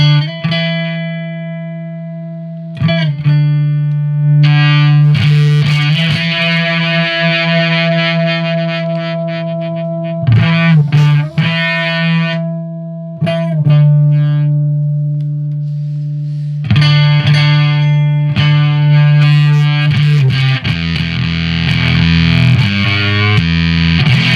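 An electric guitar played through a Ruckus distortion pedal prototype rings out in long sustained distorted notes and chords, loud and close, with short breaks and a denser, gritty strummed passage near the end.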